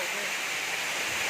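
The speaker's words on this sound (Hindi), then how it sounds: "यहाँ है प्रधानपाट वाटरफॉल" Pradhanpat Waterfall in Deogarh district, a broad steady hiss of falling water, loud and even throughout a brief stretch.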